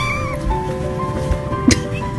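A kitten only a few days old gives a short, thin meow that rises and falls, with a brief louder squeak near the end, close by and otherwise alone over a faint background hum.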